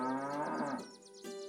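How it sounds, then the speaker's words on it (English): Cows lowing from a shed in the farming game Milkmaid of the Milky Way: one long, loud, wavering moo fades out, and a second moo starts near the end. "I heard impatient mooing from the shed"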